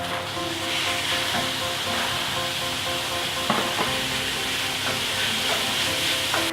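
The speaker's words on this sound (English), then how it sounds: "then add your mince into the pan" Mince frying in a pan with softened vegetables: a constant loud sizzle with occasional scraping and stirring knocks close by, and no voices.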